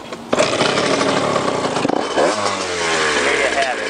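Honda CR80R two-stroke motorcycle engine running after a carburetor swap, loud and close with a rough, revving buzz that rises and falls, then settles toward a steadier idle.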